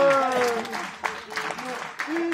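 A short burst of audience clapping follows a rope magic trick at a boarding school Christmas party. The applause is mixed with excited voices and exclamations, with a few sharper claps standing out over about two seconds.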